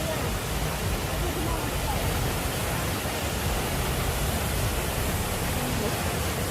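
Waterfall at Devil's Bridge in Wales, heard as a steady, dense broadband rush of falling water that stays even and continuous throughout, close and fairly loud with no break.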